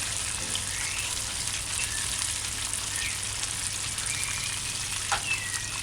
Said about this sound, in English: You gotta listen to the sizzle. When the sizzling gets less, that's a signal to say the chicken is ready.